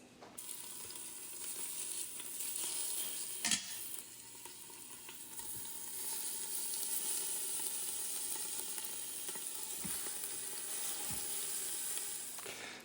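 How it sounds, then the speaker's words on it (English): A salt-and-pepper-dusted chuck roast browns in an Instant Pot with a steady, close sizzle that holds throughout, broken by a sharp clank or two early on and a few faint ticks later. "Now we can start browning the meat."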